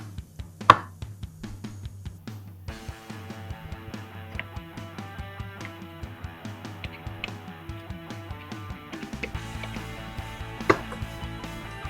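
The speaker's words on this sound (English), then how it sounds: "And back to chopping we go." A knife chops rapidly and rhythmically on a cutting board, steady close-up taps continuing throughout with a slight change in tone partway.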